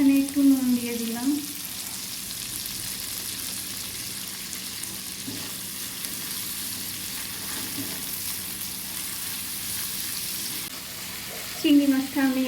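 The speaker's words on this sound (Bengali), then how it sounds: "চিংড়ি মাছটা আমি একটু নেড়ে চেড়ে নিয়েছি, বেশি ভাজবো না, তাহলে শক্ত হয়ে যাবে।" Shrimp sizzle steadily as they fry and are stirred in a hot pan with salt. The crackle runs close and even throughout, with a voice speaking briefly at the start and end.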